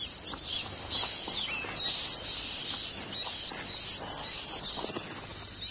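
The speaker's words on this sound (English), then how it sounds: "No creature better symbolizes the richness of the shrubland than the yellow warbler." Repeated high, bright bursts of a yellow warbler's song ring out in open shrubland, fairly close and clear over a quiet background.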